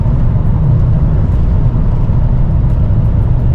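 A Lumina SS car drives a South African farm road, its engine and exhaust giving a loud, steady, deep rumble that stays close and continuous throughout with no talking.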